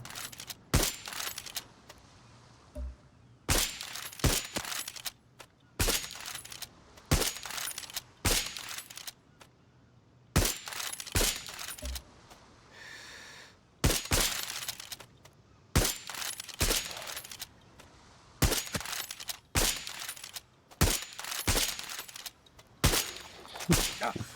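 Bursts of gunfire in the shooter game Far Cry 6 during a ship operation, sharp repeated volleys spaced a second or two apart across the clip, with short gaps between them.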